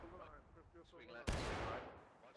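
A single loud cannon blast booms from a Civil War artillery piece in the multiplayer game War of Rights during a river-crossing battle, cutting in sharply after faint voices and then rumbling away.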